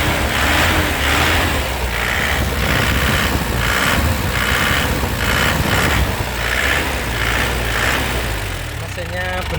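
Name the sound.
car engine revved while idling, 2007 car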